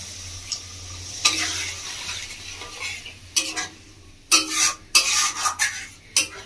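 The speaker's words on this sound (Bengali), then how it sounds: "মশলাটা খুব ভালোভাবে কষানো হয়ে গেছে, তো আমি এবার দিয়ে দেবো এর মধ্যে জল।" Water goes into sizzling fried masala for Bengali-style whole urad dal, with a hiss and scattered spoon scrapes and clatters against the pan as the mix is stirred, close up and without talk.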